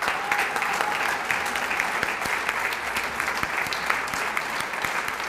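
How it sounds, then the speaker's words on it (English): An audience at a chamber of commerce awards ceremony applauds steadily, a dense continuous patter of clapping from many hands throughout. "Those of you who aren't standing, applaud these people"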